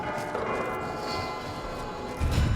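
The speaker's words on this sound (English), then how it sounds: "God, those bells are loud." Loud bells ring steadily in The Outer Worlds 2 video game, a dense sustained metallic clangor with no talking.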